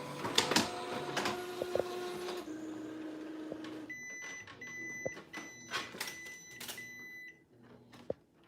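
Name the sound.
Epson P800 printer printing a color profiling chart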